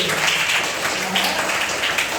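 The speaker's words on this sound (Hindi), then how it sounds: "जोरदार ताली बजाइए।" Schoolchildren in a classroom clap together in a dense, steady round of applause, loud and close, lasting the whole short stretch.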